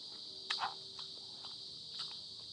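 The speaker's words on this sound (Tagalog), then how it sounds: "Mga kuliglig." Crickets chirp in a steady, high, continuous drone on a cool, cloudy night at Twin Pines Camp in Alfonso, Cavite, with a few faint soft steps or clicks nearby.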